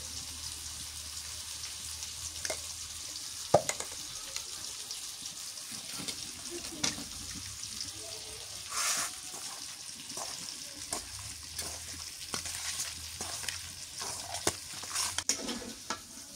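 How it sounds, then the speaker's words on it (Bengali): New potatoes fry in a pan while being stirred, with a steady low sizzle broken by frequent scraping and clinking strokes of the spoon against the pan, close and moderately loud, with no talking. "আলু ভাজি হয়ে গেছে, নামে নেই। নতুন আলু তো ভাজতেই সেদ্ধ হয়ে গেছে।"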